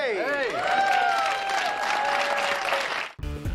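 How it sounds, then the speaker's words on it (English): A sitcom studio audience for Seinfeld bursts into applause and cheers as Kramer enters, a loud, sustained crowd roar with voices running through it, cutting off abruptly near the end. "his iconic entrances were met with tons of applause and cheers."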